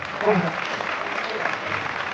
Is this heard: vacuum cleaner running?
no